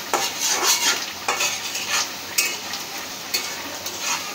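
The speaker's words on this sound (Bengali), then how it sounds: "পেঁয়াজটা বাদামি করে ভাজা তারপরে দিয়ে দেব।" Onions fry toward brown in a pan, with a soft sizzle under repeated close spoon strokes that scrape and stir in short, uneven bursts.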